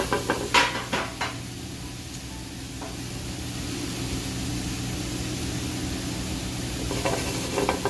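Blanched bittermelon sizzling in a pan as its liquid cooks down, a steady hiss with a few clinks and scrapes of stirring near the start and end.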